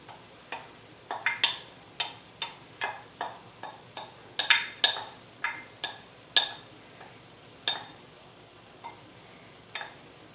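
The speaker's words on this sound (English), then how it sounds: "I've got me a big old sweet onion that I chopped up. It's gonna go in here." Chopped sweet onion cooks in a pan on turned-down heat, giving a run of sharp crackles and pops that land irregularly and fairly close, with no voices.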